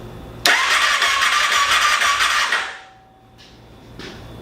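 A vehicle engine fires up for the first time after a crash: a loud, close burst of running that lasts about two seconds, then cuts out and leaves a faint, quiet tail.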